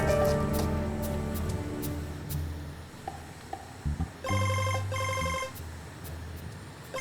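Telephone ringing unanswered, repeated electronic ring bursts, moderately close, with a rapid trilling burst near the middle and steady background noise underneath.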